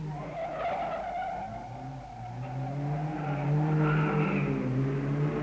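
Race cars lap the Grand Prix circuit during the 1962 rally, tyres squealing and engines droning through a corner, a sustained whine that dips and then rises louder as the car draws nearer.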